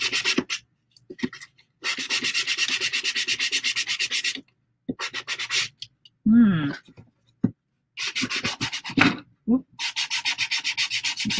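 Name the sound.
sanding down the edges of a recipe box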